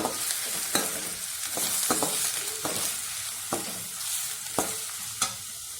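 Chopped onions fry in a pan for a home-style mixed vegetable curry, giving a steady bright sizzle broken by repeated spatula scrapes and taps at irregular intervals, close up and with nobody talking.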